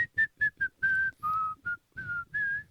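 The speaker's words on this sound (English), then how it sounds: "One of the great whistle songs." A person whistles a tune in short clear phrases, a series of sustained and clipped notes rising and falling, close and alone.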